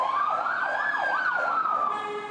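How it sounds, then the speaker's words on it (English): Wailing ambulance siren sweeping up and down in steady cycles as it passes along a city business district street, loud and close at first, then fading slightly as it moves away, with no talk over it. "I'll let the ambulance go by."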